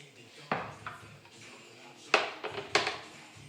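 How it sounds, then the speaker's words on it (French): Sausage being sliced into chunks about 2 cm long for rougail saucisse, with a knife striking the cutting board. The cuts land as about five sharp, separate knocks at an uneven pace, close by and moderately quiet. "Et je vais couper maintenant la saucisse pour ensuite"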